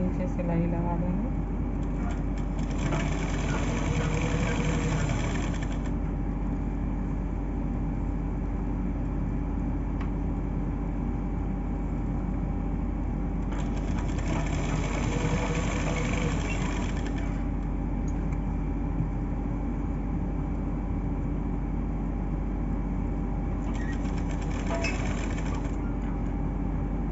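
A sewing machine stitches along the folded-over border of a blouse, running in several longer bursts over a steady background hum.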